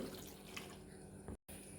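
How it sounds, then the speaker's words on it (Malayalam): Water from a glass poured into a pot of cut potatoes for a potato curry, a steady close splashing and trickling pour that cuts off abruptly near the end. "ഒരു ഗ്ലാസ് വെള്ളവും ഒഴിച്ച്"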